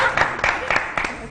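A studio audience at an Eid television show claps in a short burst of applause, with irregular scattered claps. A voice is faintly present underneath.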